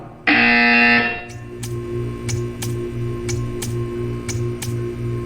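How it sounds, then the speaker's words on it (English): A loud, harsh electronic buzzer from Portal 2 blares for about a second, followed by a steady series of sharp ticking clicks over a low hum. "When you hear the buzzer, stare at the art."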